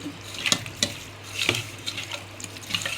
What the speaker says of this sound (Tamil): நல்லா சிக்கனில் ஒரு பெரட்டி